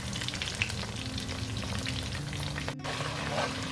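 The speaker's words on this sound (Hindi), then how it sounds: "तो अदरक लहसुन पकना शुरू हो गया है यहाँ पे और हमें भूनते हुए कम से कम 30 सेकंड हो चुके हैं।" Ginger garlic paste sizzles and fries steadily in a hot pan, a dense continuous crackle with faint stirring scrapes, close and fairly loud, and no voices.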